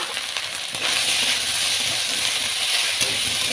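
Drumsticks (moringa pods) dropped into a hot oil pan while cooking fish curry, giving a sudden jump into loud, steady sizzling and hissing that continues close by.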